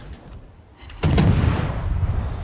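Naval ship guns in a warship battle game open fire on the cruiser Riga: a quiet lead-in, then one sharp, loud main-battery salvo with a heavy booming report that rolls and rumbles on afterward.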